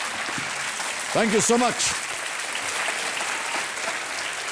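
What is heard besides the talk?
studio audience applause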